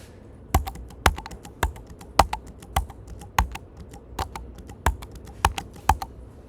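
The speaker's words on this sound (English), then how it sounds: "I'm just going to hit random keys on my number row 10 times." Random keys struck on a computer keyboard's number row, roughly ten crisp separate clicks with irregular spacing over several seconds, close and clear with no talking.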